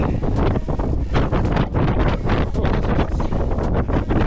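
Strong gusts buffet the microphone on Pamola Peak atop Mount Katahdin in Maine, a loud, steady roar of wind with rough flutter and no break.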